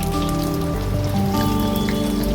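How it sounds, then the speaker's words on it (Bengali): Mushrooms fry in hot oil, giving a steady, dense crackle and patter that holds at an even level throughout, with a faint hum underneath and no voices. "একদিন ভাজা হয়ে গেছে, তাই পাল্টিয়ে নেব, অপর দিকটাও ভেজে নেব।"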